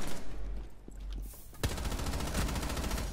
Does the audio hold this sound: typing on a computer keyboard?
no